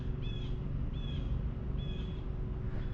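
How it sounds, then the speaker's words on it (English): Birds chirping outdoors, a few short high whistled calls repeating about every second, faint over a steady low background rumble with no talking. "Do you hear these birds going crazy right now?"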